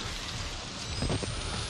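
Steady rain falling in the horror video game Outlast, a dense even hiss of downpour with no voices, filling the whole short stretch at moderate level.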